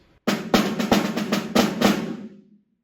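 A full measure of snare drum strokes from a junior high percussion audition excerpt, a steady run of crisp hits that closes with two flams and then rings out, with no talking.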